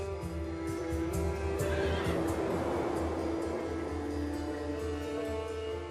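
Horses neigh inside a circular camp of an order of brothers, with a clear whinny standing out over a steady, dense background of camp noise and tonal sound.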